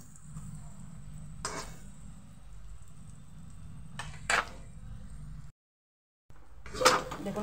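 Raw banana paste is being stirred with spices in a wok over low heat, with soft scraping and occasional metallic clinks of the spatula against the pan over a faint background hum, close up.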